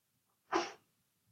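One short, sharp human sneeze bursts out close by against near silence, then fades quickly.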